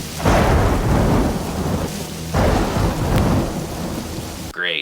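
Heavy rain and rolling thunder from a film: two loud, close thunder rumbles swell over a dense, steady downpour, and the scene cuts off abruptly at the end.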